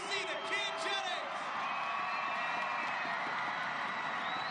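Volleyball crowd cheering and whooping for the newly crowned winners at a beach volleyball final in Omaha, Nebraska, a steady roar throughout with whistles and shouts rising over it near the start.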